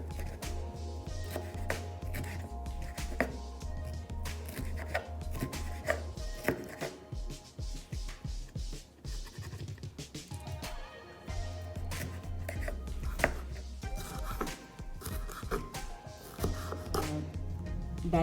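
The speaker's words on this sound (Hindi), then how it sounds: "बेल पेपर की भी मैंने कटिंग कर ली है।" A knife chops bell pepper on a cutting board while preparing chicken chow mein, producing rapid, steady close-up taps in quick bursts with brief pauses, with no talking over them.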